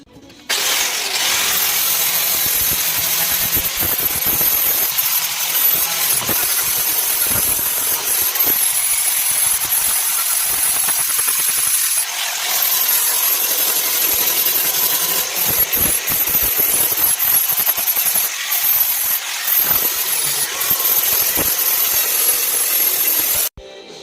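Angle grinder fitted with a 60 grit sanding flap pad working over the metal body of a 1981 Jeep CJ5, a steady harsh abrasive whine and scraping that runs almost continuously at close range with slight load variations.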